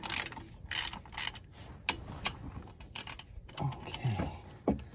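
A ratchet wrench clicks in quick bursts while loosening 19 mm bolts on a Kioti CK30 tractor, close and crisp, with brief pauses and the clank of metal between the bursts.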